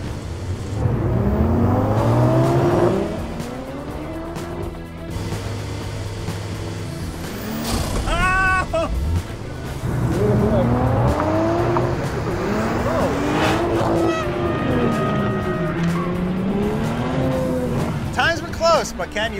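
Toyota GR Supra cars race across a court in a dunking competition, with engines revving and whining, tires squealing through sharp turns, and people talking over the mechanical noise.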